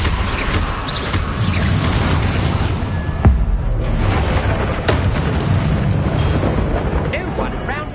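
Confringo spell explosions erupt in the video game Hogwarts Legacy on PS5: a dense, loud roar of blasts with one sharp burst near the middle, mixed with game voices.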